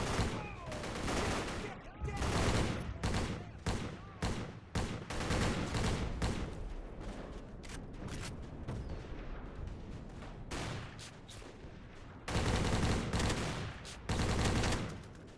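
Automatic weapon fire in a World War II trench-combat video game: repeated loud bursts of rattling gunshots and booming blasts, dense and overlapping with brief pauses between volleys.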